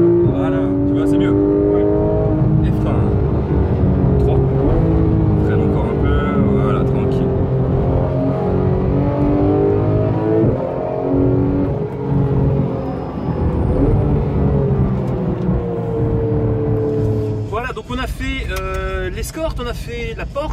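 A Porsche GT3 engine at full throttle, a loud continuous drone whose pitch climbs and dips as it pulls, turning sharper and more ragged near the end, with voices talking over it inside the car.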